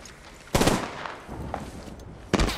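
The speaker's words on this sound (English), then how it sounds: "I am taking fire from the enemy." Enemy gunfire in a shooter video game: two loud bursts of automatic fire, one near the start and another near the end, with scattered shots and background game noise between them.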